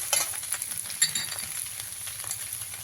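Tomato frying in a pan alongside other ingredients, a soft, fairly quiet sizzle with a couple of brief stirring scrapes near the start and middle, no speech.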